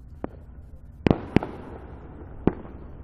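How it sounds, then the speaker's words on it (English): Scattered Fourth of July fireworks in Alpena, Michigan crack and pop at a distance, four sharp bursts with a couple clustered close together against quiet background hiss. "And there are still fireworks going off."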